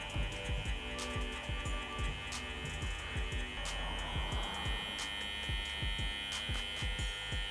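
An electric hair clipper fitted with a 1.5 guard comb, set open to a size 2, hums steadily at close range during a fade haircut. Rapid clicks and ticks from the cutting come through over the hum.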